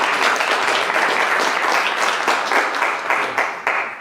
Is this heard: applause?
yes